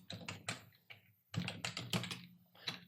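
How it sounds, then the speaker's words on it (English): Typing on a computer keyboard while entering text in Word 2019: close, crisp keystrokes come in quick uneven bursts separated by short pauses. "while I was typing the point here"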